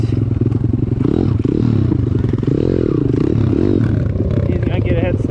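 A Piranha YX190cc pit bike engine lined up for a drag race, loud and close with a buzzing, wavering note and some clattering, while people talk over it.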